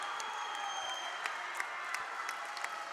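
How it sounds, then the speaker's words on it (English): Home crowd in a college gymnasium roaring and applauding during a women's volleyball match, dense continuous clapping with scattered sharp claps and cheers filling the space. "you can hear the roar from the home crowd at the Bill Cook Gymnasium"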